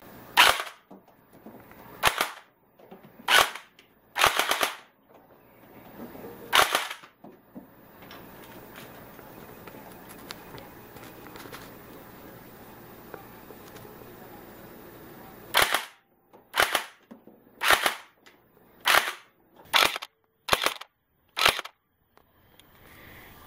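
A P90 water BB gel blaster gun fires in sharp, snappy pops, a few spaced shots first, then a long quiet gap with faint background noise, then a quicker string of about eight pops close by.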